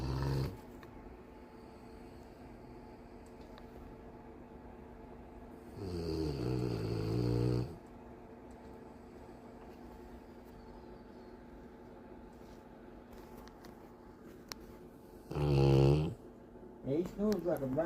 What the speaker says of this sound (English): He snores like a bear.